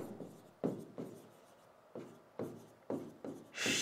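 Chalk or marker strokes writing on a classroom board during an English lesson, a series of short scraping rubs in a steady rhythm with pauses between, close and fairly quiet, ending in a louder, brighter scrape.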